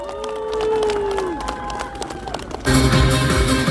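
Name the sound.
applause and cheering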